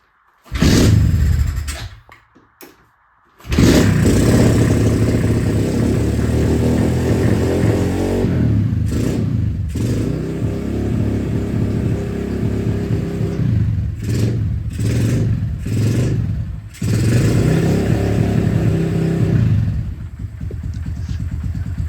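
A Kawasaki KLX110 dirt bike with a freshly installed big bore cylinder and piston starts after a few tries, then runs loud and close, idling with light throttle blips and brief dips.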